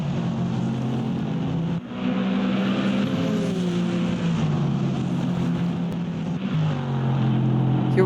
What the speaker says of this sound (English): Ramsey Johnson coming onto the final lap.